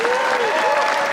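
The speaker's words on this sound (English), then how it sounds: "another round of applause for the great Chris Jericho" Audience applause at a KISS-related Las Vegas Q&A event, a dense steady clapping from a crowd with some cheering, continuous and fairly loud throughout the short stretch.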